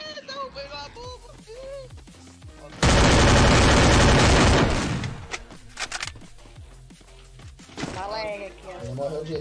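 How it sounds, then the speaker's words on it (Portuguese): A dense burst of rapid video game gunfire erupts for about two seconds, loud and sustained, with excited voices talking before and after. "É um tiro, morre, Slack."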